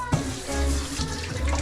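Running tap water pours steadily over rice being washed in a kitchen sink, a continuous close splashing rush with slight shifts as the grains are stirred, no talking.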